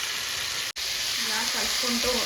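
Marinated chicken masala shallow frying in oil over a high flame gives a steady, loud sizzle, briefly cut out, then continuing as the pieces are stirred.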